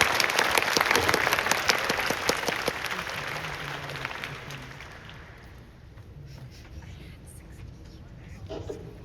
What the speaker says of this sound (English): Give a big round of applause to Fetch AI.